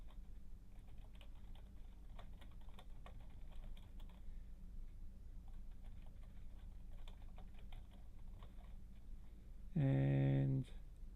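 Typing code on a computer keyboard: soft, steady clicking of keys runs quietly for most of the stretch, with a brief louder thump near the end.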